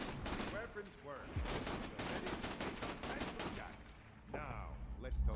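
Weapons firing in the video game Borderlands 2: bursts of rapid gunfire run through the whole span, loud and dense, with brief pauses and a heavier burst near the end, mixed with game sound effects.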